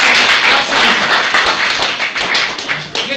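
Audience clapping in a broadcast studio, a loud, dense burst of many hands that carries steadily across the whole stretch, with a few individual sharper claps standing out near the end.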